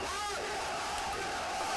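A large outdoor crowd gathered along Amit Shah's election road show in Singur, West Bengal, 2021, roars and cheers in a steady, dense wash of voices with a few louder shouts, continuous throughout.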